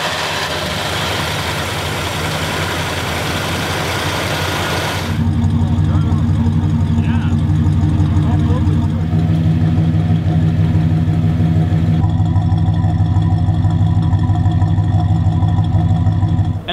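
A 1972 Buick's engine runs steadily at idle close by for the whole stretch, a deep, even rumble that gets fuller partway through with no voices over it.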